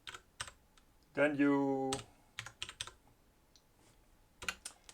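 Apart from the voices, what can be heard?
typing on a computer keyboard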